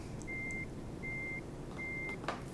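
Reversing alarm of a truck in Euro Truck Simulator 2, three evenly spaced steady beeps sounding at a regular pace over a low engine rumble, with a brief clunk near the end.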